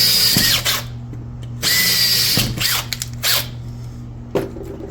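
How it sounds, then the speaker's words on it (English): A power drill boring small pilot holes into an aluminum pool door, with several close, loud whirring bursts separated by short pauses and clicks between them. "you're going to come and just drill 2 little pilot holes above and below like so"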